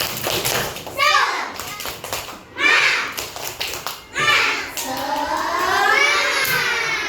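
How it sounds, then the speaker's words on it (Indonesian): Children in a combined-grade classroom do a rhythmic spirit clap, sharp hand claps in quick patterned bursts mixed with their loud chanting voices. "kita tepuk semangat."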